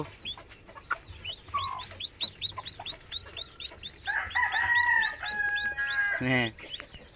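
A mother hen with a large brood of twenty-one chicks: steady high peeping from many chicks mixed with the hen's low clucks and soft calls, close and continuous, with a rooster crowing faintly in the background.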